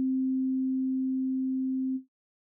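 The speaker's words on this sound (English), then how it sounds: "One just basically means that we're generating a sine wave and we're only emphasizing the fundamental frequency" A steady pure sine tone from a Bitwig Phase-4 synthesizer holds one low pitch with no overtones, sounding loud and constant for about two seconds before stopping abruptly.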